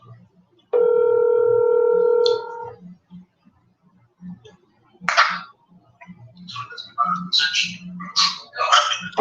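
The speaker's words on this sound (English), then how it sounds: "Yeah, I heard the phone ring." A phone rings out on an outgoing call, with one steady electronic ringback tone lasting about a second and a half, followed by quiet background noise and then bursts of voice.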